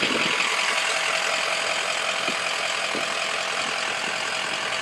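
A Ford 6.0 diesel truck engine runs steadily at close range, a loud, even rumble with a constant hiss and no break across the whole stretch.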